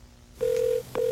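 A telephone rings with a steady electronic tone in two bursts, the second starting just as the first ends, clear and close with no voices.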